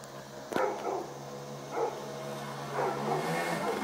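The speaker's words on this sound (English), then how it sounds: "And the constant dogs barking" Neighbors' dogs barking near a house in Quepos, Costa Rica, several distant barks and yips spaced out over a steady outdoor background hum.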